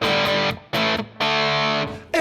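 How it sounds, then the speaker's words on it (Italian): Electric guitar on the bridge humbucker through a Way Huge Red Llama distortion pedal, three loud sustained distorted chords ringing out one after another with brief gaps, no talking. "Tipica impostazione da distorsione, quindi con un humbucker al ponte, suona così."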